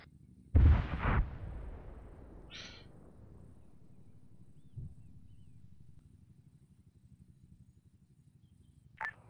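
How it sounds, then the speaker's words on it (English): Distant explosions in the military game Arma 3: a muffled boom early on with a rumbling tail, a fainter thud midway, and a sharp crack near the end, with a brief electronic tone between them. "Hitman, I'm hearing explosions to your north."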